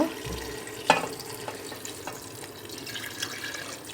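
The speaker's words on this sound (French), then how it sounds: "Et là vous rajoutez de l'eau, comme je vous ai expliqué, toujours tiède, hein, chaud sur chaud." Lukewarm water poured into a pot over meat with chickpeas for an Algerian stew, a soft splashing pour with a sharper splash near the start, close and quiet with no talking.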